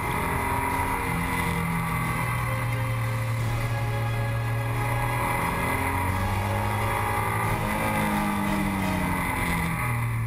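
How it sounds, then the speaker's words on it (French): A BMW R NineT motorcycle with its flat-twin engine pulls steadily while riding, a continuous loud drone with shifting pitch as revs rise and fall, close and without talk. "La vivacité du moteur nous emmène d'un virage à l'autre à bonne allure."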